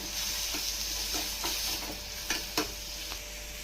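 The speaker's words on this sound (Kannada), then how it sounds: "ಈರುಳ್ಳಿನ ಸಣ್ಣ ಕಟ್ ಮಾಡಿ ಇಟ್ಕೊಂಡಿದ್ದೀನಿ. ಅದನ್ನು ಫ್ರೈ ಮಾಡ್ಕೊಳ್ಳಿ." Chopped onion frying in a pan with ginger and garlic for dal khichdi: a soft, continuous sizzle with several light scraping stirs and a couple of sharper spatula taps, fairly quiet and without any voice.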